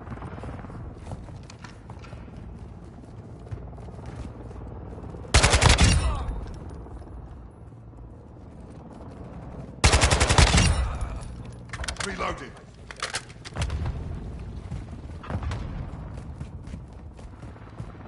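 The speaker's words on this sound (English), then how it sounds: "Taking fire over here." Gunfire in a console shooter, with two sharp loud bursts standing out over a low background rumble and a few quieter shots and impacts scattered through the rest.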